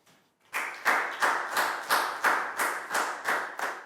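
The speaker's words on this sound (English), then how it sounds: "a big round of applause for Pangpon, please, guys." Rhythmic group clapping from a class in a children's maths lesson, about eight evenly spaced claps in unison after a short quiet start, loud and close.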